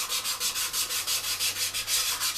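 Abranet sanding strip held against a rotating wooden piece on a lathe, giving a steady, close, rhythmic rasping hiss that pulses about five times a second, with no talking.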